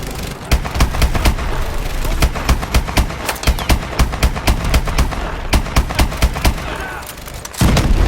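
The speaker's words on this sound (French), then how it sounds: "Je vais faire le mitraillage sur les unités ennemies" Rapid bursts of automatic machine-gun fire in the Call of Duty Advanced Warfare video game, loud and close, with dense repeated reports across the whole stretch and a heavier boom near the end.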